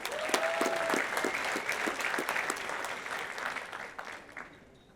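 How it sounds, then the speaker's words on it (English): Graduation ceremony audience applauding a postgraduate certificate recipient, steady clapping from a hall full of people that fades out toward the end. "let's applaud Melissa Mayberg"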